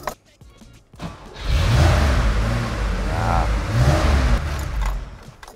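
A Carrera 3-litre car engine cranks and catches, then settles into a deep, loud rumble with a couple of revs rising and falling, heard close for several seconds.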